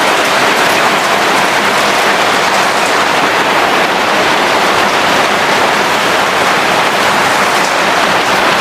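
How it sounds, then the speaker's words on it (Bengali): Heavy, steady rain pours down without a break, a dense, loud hiss of water drumming on surfaces that stays constant throughout with no voices. "এমন ভাবে বৃষ্টি হচ্ছে, আমি আপনাদেরকে একটু দেখাই"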